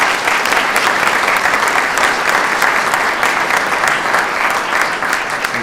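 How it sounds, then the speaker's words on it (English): At a community health meeting in Hamilton, a large audience gives a loud, sustained round of applause, dense and even throughout with no voices over it. "I want you all to give yourselves a round of applause"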